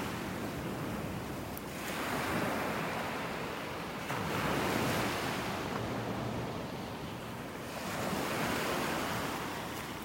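Ocean waves rolling onto a beach in North Naples, Florida, rising and falling in a slow wash of surf with wind rumbling across the microphone.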